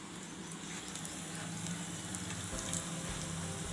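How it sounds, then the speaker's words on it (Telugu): Batter-coated chili peppers frying in hot oil give a steady, close sizzle and crackle that runs without a break, with no talking. "మనం మంచిగా మిర్చిని డిప్ చేసుకొని ఆయిల్లో ఫ్రై చేసుకోవాలి"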